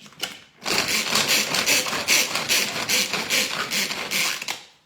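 A Tornado manual food chopper chops onion for a vegetable tortilla, giving a fast, continuous whirring and rattling that starts after a brief pause and runs steadily near and loud.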